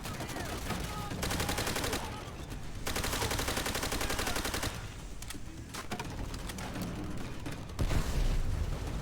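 Sustained machine gun bursts in the World War II shooter Call of Duty: World at War, loud rattling fire with brief gaps between long volleys and a heavier thump near the end.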